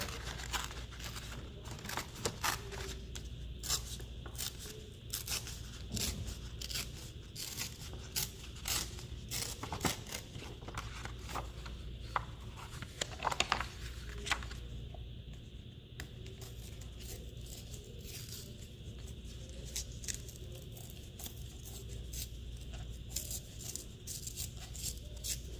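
Paper edges are torn by hand in short, crisp rips and crinkles, close and quiet, repeating irregularly against a soft room background, with no talking.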